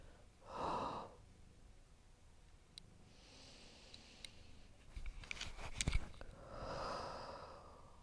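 Slow, deep breaths during a yoga class, with a clear inhale near the start, soft rustling and small ticks in between, and another long breath toward the end, close and fairly quiet.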